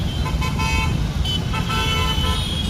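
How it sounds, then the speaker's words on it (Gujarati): Road traffic beside a flooded bridge on Varachha Road: a steady engine rumble with car horns tooting repeatedly, fairly near and loud. "તમે ટ્રાફિક જુઓ"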